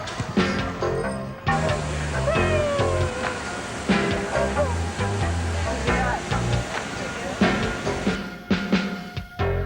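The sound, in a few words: cat meowing backstage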